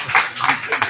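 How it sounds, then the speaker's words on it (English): Hands clapping at an evening house program in Mathura, India, a few quick claps in a short rhythmic run, close and fairly loud. "इसलिए ताली बजाओ।"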